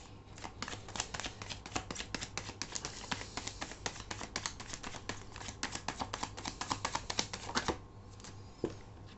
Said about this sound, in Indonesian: jadi aku akan shuffle sekali lagi